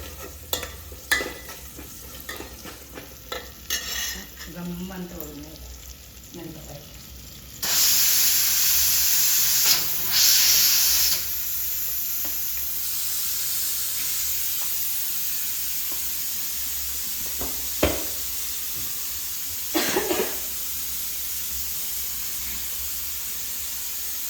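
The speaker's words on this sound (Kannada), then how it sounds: "ಸ್ಲೋವಲ್ಲಿ ಇದನ್ನು ಸ್ವಲ್ಪ ಫ್ರೈ ಮಾಡೋಣ ಬೆಳ್ಳುಳ್ಳಿ ಜೀರಿಗೆ ಆಮೇಲೆ ಕರಿಬೇವಿನ ಸೊಪ್ಪು" Garlic, cumin and curry leaves fry in a pan, starting with scattered taps and stirs before a loud burst of hissing sizzle that settles into a steady crackle with occasional clinks, close up and without talk.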